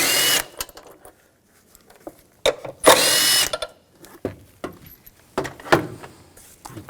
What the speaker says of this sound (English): Take these two bolts out,